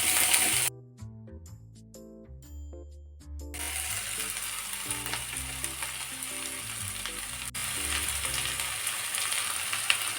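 Chopped tomato stirred and frying in a pan for a bhindi egg fry, a steady close sizzle with scraping stir strokes, quieter at first and then fuller and continuous.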